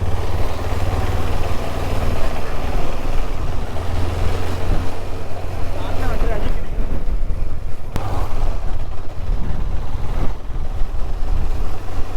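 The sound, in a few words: strong wind blowing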